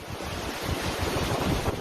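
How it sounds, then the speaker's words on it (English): Storm surge and wind from Hurricane Ian batter Fort Myers as a Category 4 storm, a dense roaring rush of surf and gusting wind buffeting the microphone, steady and close with no voices. "Ian made landfall as a forceful Category 4 storm, whipping up walls of water in Fort Myers"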